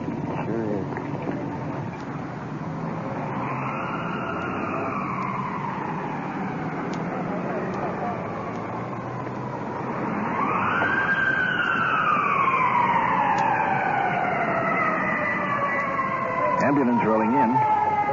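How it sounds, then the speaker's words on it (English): A wailing siren rises and falls in long sweeping tones, growing louder partway through as it draws nearer, over a steady background rumble. "Ambulance rolling in. Off in the distance, the opposite direction."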